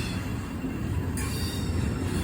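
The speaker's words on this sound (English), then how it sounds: "CSX Intermodal passes through this railroad crossing at 21 Avenue." A CSX intermodal freight train rolls through a road crossing at 21st Avenue, a steady, loud rumble of cars and wheels on rails with faint squealing, heard close and continuous.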